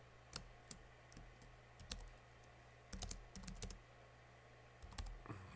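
Computer keyboard typing in a quiet room, with clusters of sharp key clicks in irregular bursts and short pauses between them, close and fairly faint.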